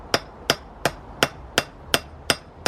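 Hammer blows forging a small iron arrowhead on an anvil, eight sharp ringing strikes at a steady, even rhythm about half a second apart, close and clear with no talk.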